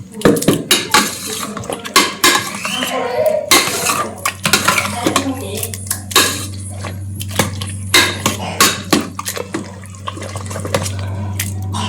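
Cooked carrot for halwa is mashed in a pan with a metal utensil, giving rapid irregular clanks and scrapes up close, loud against a steady low hum.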